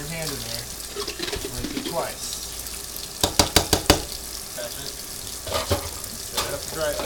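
Tap water runs and splashes as a cup is rinsed clean of soap at a kitchen sink, with a few sharp clinks and knocks partway through.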